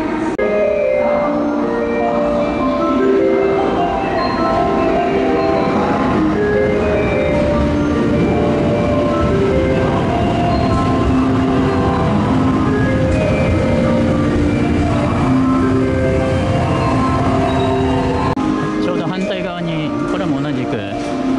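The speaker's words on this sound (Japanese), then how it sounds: "大阪からのサンダーバード号がやってまいりました" A Thunderbird limited express train from Osaka arrives at Kanazawa with a steady rumble and clatter, a tonal horn or melody sounding over it, continuous and fairly loud.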